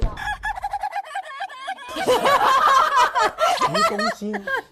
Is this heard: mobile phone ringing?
no